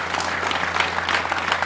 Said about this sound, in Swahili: naomba tuwapigie makofi na wajipigie makofi mengi sana